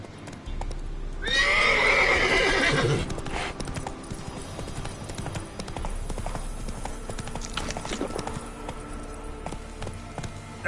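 Roach, the horse in Witcher 3, whinnies loudly and then trots on with a steady rhythmic clip-clop of hooves, near and continuous under quiet game ambience.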